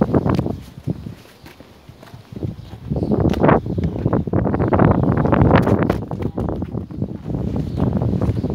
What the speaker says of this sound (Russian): Сегодня прям как обещали, ветерочек.